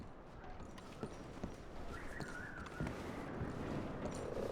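Horses in the video game Red Dead Redemption 2 clip-clopping with soft, scattered hoof steps over a dense, noisy outdoor game ambience, fairly faint and continuous, with no clear whinny standing out.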